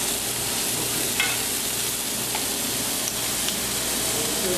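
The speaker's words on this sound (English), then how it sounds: "Make sure we got enough butter while this is cooking." Oysters sizzle and fry in butter on a restaurant stove, a steady close crackling hiss with a few faint clinks of utensils, no voices.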